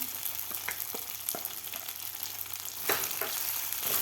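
Soaked sabudana and dry fruits frying in a pan for sabudana kheer, a steady soft sizzle with sharp scraping stir clicks scattered throughout, close and alone without talk.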